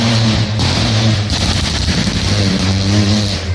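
A rally car at the Speyside Rally accelerates hard past on a tarmac stage, its engine note loud and close, rising and falling through gear changes without a break.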